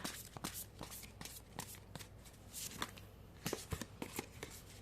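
Oracle cards riffled and shuffled by hand, a series of soft crisp bursts and rustles at close range, quiet overall with no voices.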